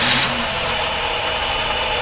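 A car engine fitted with a hydrogen generator on its vacuum hoses catches and settles into a steady, even running hum, loud and close with no talking.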